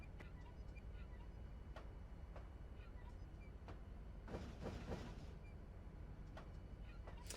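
A hand car rolling along the rails in Trainz Simulator 3, with steady rumble broken by sharp, evenly spaced clicks as the wheels pass rail joints, plus a brief louder clatter midway.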